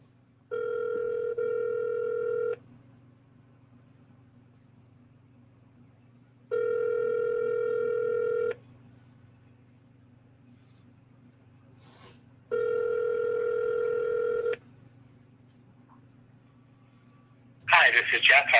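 An office phone line rings back in three evenly spaced two-second tones over a low hum, followed by a brief rustle at the end.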